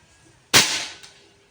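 A single sharp air gun shot at a target outdoors, a sudden loud crack followed by a short decaying ring, with a faint second tap just after.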